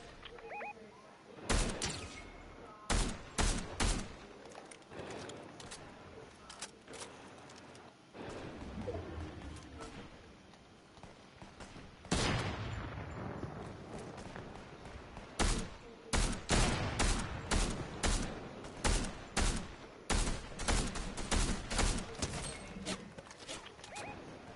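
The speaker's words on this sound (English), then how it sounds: "The ones above are shooting me." Turret gunfire from the Citadel in a video game crackles in repeated sharp bursts and volleys, loud and close, with short quiet gaps between salvos.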